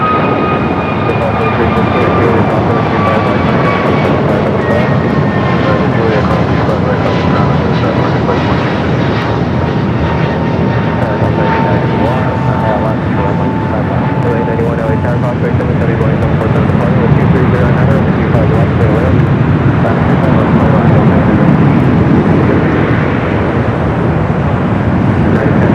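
Airbus A321neo airliner on flight 2110 from Minneapolis passing near an airport, its jet engines giving a loud sustained roar with a slowly falling whine across the whole stretch.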